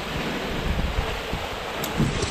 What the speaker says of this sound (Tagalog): Kahit ganito kalakas ang hangin